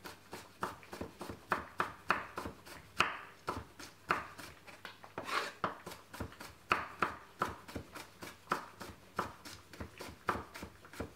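A knife chopping cucumber on a cutting board, with quick, evenly spaced crisp taps that repeat steadily and close by, sometimes speeding into short runs.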